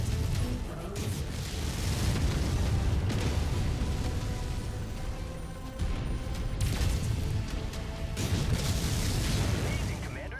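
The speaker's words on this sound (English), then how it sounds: "Incoming missile." Missile explosions in the mech combat game Mechwarrior 5, with dense booming blasts and rumbling bursts that swell and recur in heavy waves throughout.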